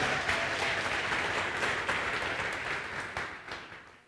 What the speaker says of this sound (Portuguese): um salve de palmas para ela